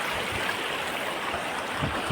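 Ghaggar river stream near Panchkula flowing in a steady, continuous rush of water, close and fairly loud throughout with no talking.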